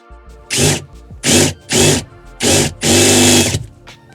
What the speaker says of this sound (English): we can drill out the other rivets from the other side